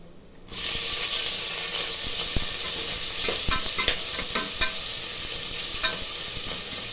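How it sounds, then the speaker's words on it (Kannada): Onion and green chillies hit hot oil for a chicken biryani, bursting into a loud, steady sizzle and hiss close by, with occasional spatula scrapes and stirring clicks, no talking. "ಇದೊಂದು ಎರಡು ನಿಮಿಷ ಚೆನ್ನಾಗಿ ಬ್ರೌನ್ ಆಗೋ ತನಕ ಫ್ರೈ ಮಾಡಬೇಕು"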